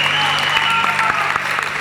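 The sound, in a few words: audience applause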